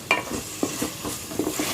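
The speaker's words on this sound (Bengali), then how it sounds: "মশলার সাথে মাংসটা কষানোর পরে আমি অল্প করে একটু পানি দিব" Chicken tikka pieces are stir-fried with spices in a pan, with a few quiet, scraping spatula strokes over a faint sizzle in a short stretch.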